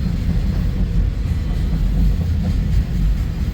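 Freight train carrying intermodal containers, auto racks, tank cars and I-beams rolls past in the Midwest, a steady loud low rumble with faint wheel clatter and no pauses.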